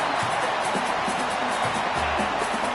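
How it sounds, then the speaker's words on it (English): A loud, dense roar from a packed college football stadium crowd at LSU versus Texas, a constant wall of noise cheering on the defense with no break. "Listen to this crowd just shaking the girders of this place, trying to help their defense."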